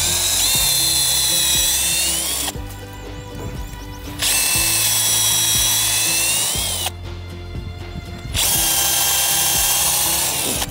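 A power drill bores into a Huang Hua Li (rosewood) tree trunk in a plantation, a loud high whine running in three long bursts separated by short pauses where the motor drops away.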